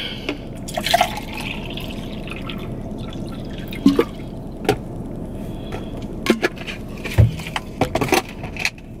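Water trickles and drips into a cup in short bursts, with small clinks and bumps of handling close by.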